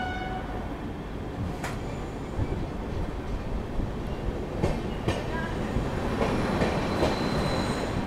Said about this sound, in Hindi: ट्रेन ने पकड़ी रफ्तार